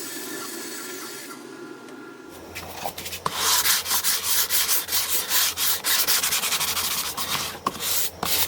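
A wooden whiskey barrel serving tray being sanded. After about two seconds of quiet room tone, steady, loud scratchy rubbing strokes start close by and continue in a dense, rhythmic stream to the end.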